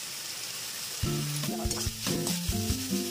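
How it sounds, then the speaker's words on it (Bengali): Masala and potatoes sizzle in a hot pan while a spoon stirs and scrapes, with sharp clinks against the vessel over a steady frying hiss, close up and without talk. "মশলাটা একটু কষে নেবো আলু সমেত"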